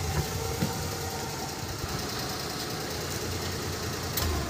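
A vehicle engine idles in a steady, rough mid-pitched rumble with faint knocking, running close and alone without voices, shortly before it dies after brake trouble and white exhaust smoke.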